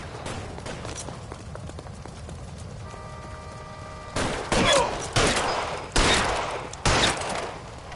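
Gunfire from L.A. Noire's police shootout comes as four loud, spaced bursts in the second half, after a stretch of busy background ambience with a brief tonal hum.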